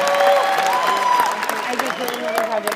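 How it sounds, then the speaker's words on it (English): Audience applause rolls on under a loud nearby speaking voice, with the clapping at moderate volume and the voice's tones standing out above it throughout. "Give a big round of applause, please."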